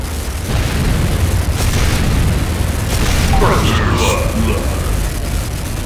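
Weapons factory building in a real-time strategy game exploding in a sustained, heavy booming roar with crackling debris, loud and close throughout.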